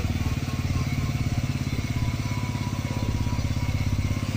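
Motorcycle engine running at a steady idle as a simple electricity generator, a loud close rhythmic putter that stays even throughout with no pauses.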